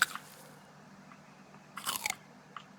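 Crunchy bites of food being eaten in the survival game The Forest: a sharp crunch at the start, then a louder cluster of several quick crunches a moment later, over a quiet low hum.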